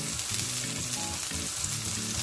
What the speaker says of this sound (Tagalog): We just put in our red onion, our sibuyas. We just give it a mix,